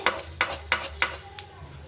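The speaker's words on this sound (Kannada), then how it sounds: "ಎಣ್ಣೆಯಲ್ಲೇ ಈ ಥರ ಫ್ರೈ ಮಾಡಿಕೊಂಡ್ರೆ ಘಮ ಘಮ ಅಂತ ತುಂಬ ಚೆನ್ನಾಗಿರೋ ಸ್ಮೆಲ್ ಬರುತ್ತೆ" Spices frying in oil in a pan, heard as four or five quick, bright stirring scrapes in a regular rhythm over a soft sizzle, close and clear with no talking.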